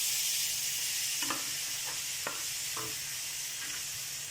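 Chana dal and raisins sizzle in a hot pan, a constant frying hiss broken by several soft scrapes and stirs of the spoon, close up and without any voices.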